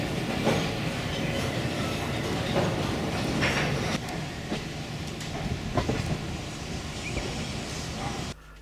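A Rovos Rail luxury train departing a station rumbles steadily along the rails with a dense, continuous roar and faint clatter, close and loud, then cuts off abruptly at the end.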